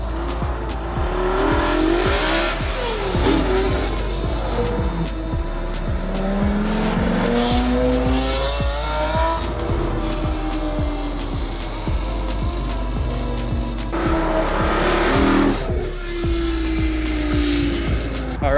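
Screaming high-revving V10 engine in a Lincoln Continental, repeatedly climbing and dropping in pitch through gear changes, loud and close with constant road rumble underneath.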